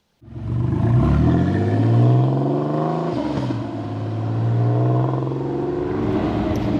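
A TVR Tuscan sports car engine starts up and pulls away, its rumbling note climbing in pitch through the revs, easing briefly, then building again. It is loud and close, with no voices.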